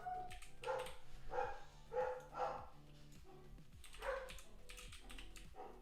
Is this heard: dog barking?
yes